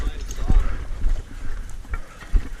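Horse hooves clop along an icy trail in irregular steps, close by, while people talk over them.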